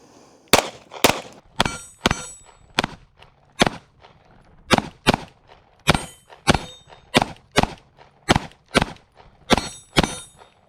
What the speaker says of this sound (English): We're just gonna fire 2 shots and move on down the line.